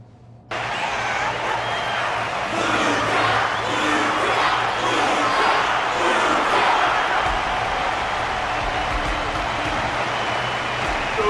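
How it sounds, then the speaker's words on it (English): A large audience applauds and cheers without pause at a combat ceremony arena in Honkai: Star Rail, a dense and steady wall of clapping and shouting that holds loud from start to finish. "The audience's passion stays strong. Their constant applause is a salute to this resilient Belabogian fighter."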